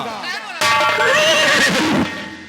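A horse lets out one loud, close whinny that rises and then trails off, preceded by a softer lead-in sound.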